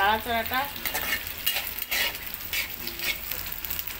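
Chopped garlic and onion stir-frying over high heat for a beef sizzling dish, a loud continuous close sizzle with stirring scrapes in the pan and no talk.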